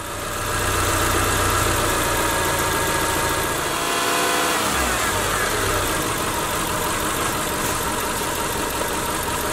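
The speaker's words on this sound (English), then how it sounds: "rev the engine at 2000 RPM for 15 seconds." A car engine held at 2000 RPM runs steadily, a constant loud drone with a brief dip partway through, no voices.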